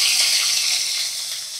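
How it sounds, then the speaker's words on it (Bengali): Diced vegetables sizzle steadily in hot oil for pasta, a dense, close frying hiss that holds fairly even and eases slightly toward the end. "দেখো, সব সবজিগুলো ভাজা হয়ে গেছে,"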